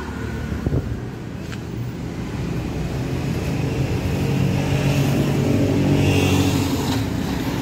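A Kubota 5502 tractor engine runs with a steady, close, low rumble that swells slightly louder toward the end, mixed with wind buffeting on the microphone.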